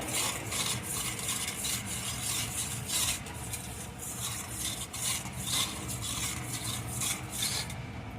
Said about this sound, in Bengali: এখন লবণটা জলের সাথে ভালো করে এইভাবে নাড়িয়ে নাড়িয়ে মিশিয়ে নেব